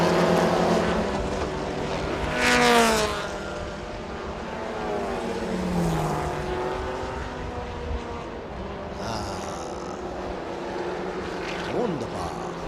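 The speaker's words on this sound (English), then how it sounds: "It's a battle between the Porsche and the" Porsche and Toyota Supra GT race cars battling on a circuit during a Thailand Super Series race, engines droning and shifting pitch as they pass, with a commentator talking over the steady roar.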